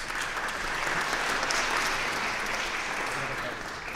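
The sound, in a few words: audience applause welcoming speaker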